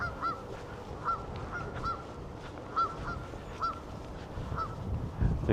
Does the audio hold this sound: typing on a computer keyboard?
no